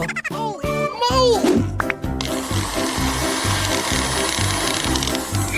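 A blender purees smoothie ingredients in a steady, loud whirring roar that runs unbroken to the end, after a brief voice at the start.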